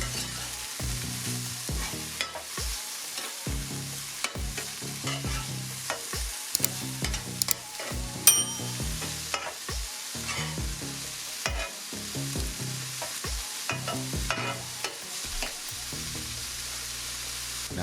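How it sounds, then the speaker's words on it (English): Ground turkey sizzles steadily in a hot pan while a utensil scrapes and stirs it in frequent, irregular strokes; close and fairly loud, with no voices. "we simply just gonna give that turkey a quick mix, making sure that it doesn't burn"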